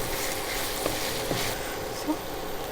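A pan of cluster beans curry with coconut powder and coriander powder is stirred over a steady frying sizzle, with a few soft scraping strokes at a moderate, close level.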